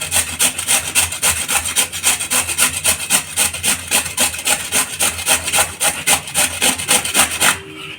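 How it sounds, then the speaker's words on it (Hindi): A white radish is rubbed hard against a carrot grater in steady back-and-forth strokes, a loud rhythmic rasping that runs for several seconds close up, with no talk, then stops. "गाजर घिसने वाला पे इसको घिसेंगे, बहुत ही आसानी से मूली घिसा जाता है इस पर।"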